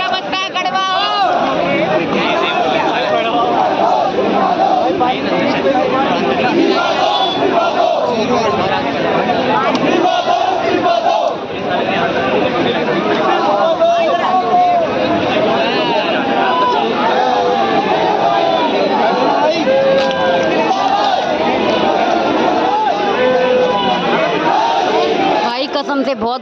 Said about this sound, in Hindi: भाई कसम से बहुत भीड़ है, बहुत।